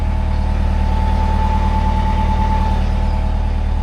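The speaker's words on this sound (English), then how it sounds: "you can hear the engine running, but it's so smooth" A boat's engine runs smoothly during a sea trial, a loud, even idle-like drone with a steady low throb and a faint tonal whine, heard alone without talk.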